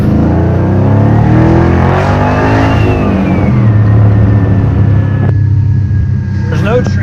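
A 1962 Corvette with a 430-horsepower engine accelerating hard, a loud close throaty roar rising through the gears with a brief shift dip, a voice speaking over it.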